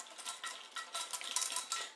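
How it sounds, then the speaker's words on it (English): A spoon clinks and scrapes in a small dish while collagen gelatin mixture for a Ding Dong cake is stirred, a steady rhythmic run of light metallic taps and swishes, close and alone. "I'm going to mix it up."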